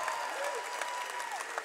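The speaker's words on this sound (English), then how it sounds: "give a round of applause to all the high school and college graduates" Brief burst of crowd applause for high school and college graduates at an event, steady clapping heard fairly quietly with no talking over it.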